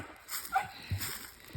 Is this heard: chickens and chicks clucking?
no